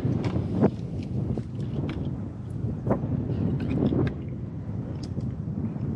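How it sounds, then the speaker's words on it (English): Strong wind buffets the microphone on an open golf course, a steady low roar with gusty surges throughout and a few faint clicks and rustles, no talk. "it's really windy"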